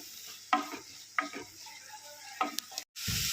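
Small onions sautéing in a pan with salt for a dried prawn and drumstick theeyal, giving a soft continuous sizzle broken by a few short bursts of stirring scrapes, close and moderately quiet.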